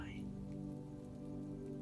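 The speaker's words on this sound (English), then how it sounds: "The spattering rain eased further, transitioning into a fine mist that settled on the meadows" Steady rain spattering on a surface in open countryside near Stonehenge, a continuous even patter held under a low droning hum that runs through the whole stretch.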